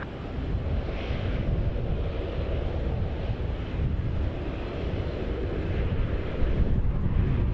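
An Air Canada Boeing 777-300 arriving from Tokyo Narita lands, a broad, steady low roar of jet engines with wind rumble at a distance, holding level and swelling slightly toward the end.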